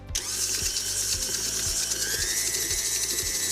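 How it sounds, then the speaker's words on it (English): An electric stand mixer creaming butter and sugar for a ruby red grapefruit cake, giving a steady, loud whirring motor drone with a rhythmic low knocking from the beater, running without pause. "Sugar in, mixer down, and we'll turn that on to cream."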